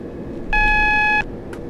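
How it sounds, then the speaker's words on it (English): The AWS alarm in Train Simulator 2015 sounds on the Victoria to East Croydon route as a single steady electronic tone lasting under a second, clear over a low cab rumble. "AWS alarms are responded to by pressing Q on the keyboard."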